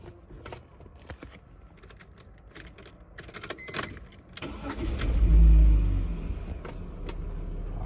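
A BMW E46 320Ci engine idles steadily after a mass airflow sensor replacement, with clicks and handling noises first, then the low engine rumble swelling louder midway and settling at a steady level.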